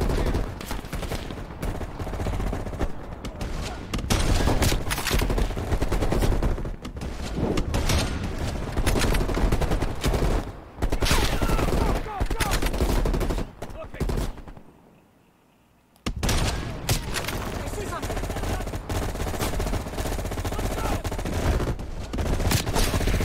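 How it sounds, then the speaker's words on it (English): Machine gun fire in the Black Ops Cold War campaign, long loud bursts of rapid automatic shots with a brief pause midway, a voice talking now and then over the gunfire. "I don't like that machine gun."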